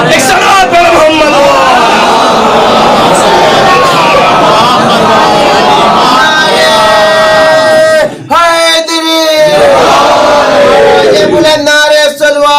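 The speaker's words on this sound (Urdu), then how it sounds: "بلند نعرے صلوات" Congregation at a Shia mosque majlis loudly chants salawat in unison, a powerful massed chorus of voices in several swelling waves, with a brief lull midway before the chanting surges again.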